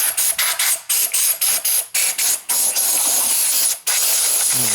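Compressed air blasts from an air compressor nozzle cleaning a Milwaukee tool, a string of short sharp hissing bursts close up, followed by one longer continuous blast.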